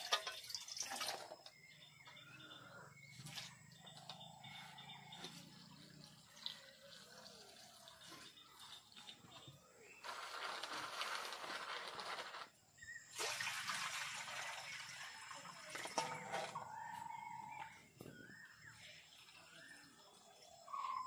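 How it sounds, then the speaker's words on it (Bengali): Water draining off washed dried jujubes, a quiet close pouring and trickling with two longer splashing bursts between scattered drips. "ধোয়া হয়ে গেছে, জলটা ফেলে দেব।"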